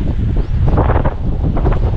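Strong wind at a calamansi farm buffets the microphone with a constant low roar and gusty rustling, loud and close, with no voices.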